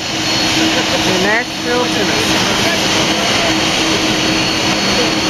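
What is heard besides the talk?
Air Force One jet aircraft departing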